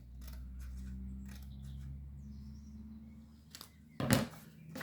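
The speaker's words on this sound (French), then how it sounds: "Je vais le couper avec mes ciseaux." A few short, crisp snips of scissors cutting paper, close by and fairly quiet, with a louder rustle near the end and no talking.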